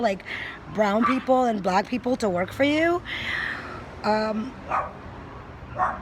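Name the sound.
dogs barking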